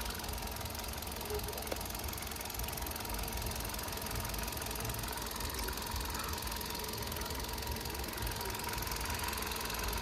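A Hyundai Grand i10 Nios, a 2020 model, runs its 1.2 Kappa petrol engine at a quiet, even idle with a soft, continuous hum and a light mechanical ticking, and no one speaks over it.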